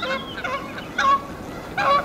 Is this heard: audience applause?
no